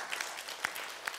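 A church congregation bursts into brief applause, a short dense patter of clapping heard alone.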